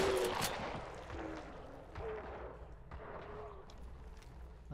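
Gunshots in the Hunt: Showdown video game: a few booming shots ring out at a distance, each followed by a long rolling echo and decay, against faint background ambience.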